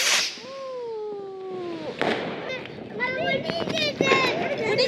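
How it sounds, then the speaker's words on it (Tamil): Sharp firecracker bursts crackle in a rapid cluster, with a whistling rocket beforehand and children's voices and chatter throughout. "இந்த முறை எல்லாரும் கொடூரமா தான் வெடி போடுறீங்க"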